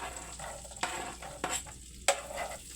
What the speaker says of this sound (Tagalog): Butter po ang gawin nating panggisa. Next po ay lulunurin na po natin ang bawang.